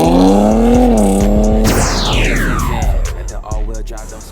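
A tuned, air-bagged Infiniti Q50S with a VR30 twin-turbo V6 roars loudly up close, its exhaust note rising and falling, then a sharp downward sweep as the revs drop, with someone talking over it.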